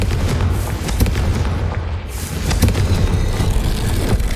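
Confringo fire spell blasting in Hogwarts Legacy, a loud, dense burst of rumbling explosions and crackling impacts that carries on without a break through the whole stretch.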